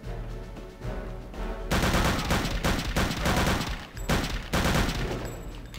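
Loud bursts of MP40 submachine gun fire in Return to Castle Wolfenstein, a brief lull, then sustained rapid volleys with short breaks between bursts, close and dominant.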